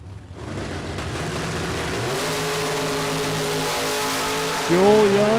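At a super pro drag racing event, a Camaro revs and launches down the strip, its engine drone rising into a loud accelerating roar while an announcer talks over it.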